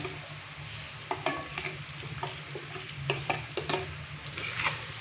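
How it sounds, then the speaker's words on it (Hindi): Okra dropped into a pan of frying spices for an egg bhindi, giving a dense continuous sizzle with repeated clacks and scrapes of a spoon stirring through it, close and fairly loud. "तो अभी मैं इसके अंदर भिंडी डालूंगा।"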